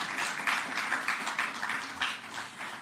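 Audience clapping at a government press briefing, a sustained round of scattered hand claps in a room, moderately loud, steady throughout with no voices.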